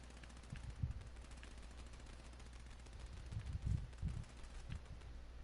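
Faint bursts of gunfire in a shooting video game, short muffled clusters of shots at two or three points, sounding distant and low, with quiet background in between.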